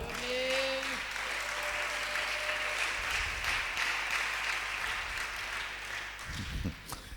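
A church congregation at a Bible seminar breaks into sustained applause, a steady wash of clapping that fills the room for several seconds, with a faint voice rising through it near the end.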